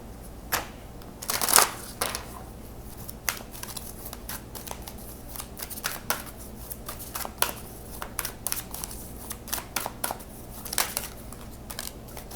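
Tarot cards are shuffled by hand in a series of quick riffles and sharp flicks, close and fairly loud, the bursts coming irregularly across the whole stretch without speech.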